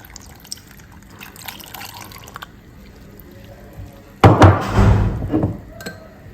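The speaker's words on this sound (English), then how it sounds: "Go ahead and add our full milk." Full milk pours into a papaya ice cream mixture in a bowl, a short splashing gush that starts abruptly and lasts about a second, close and fairly loud after quieter kitchen clatter.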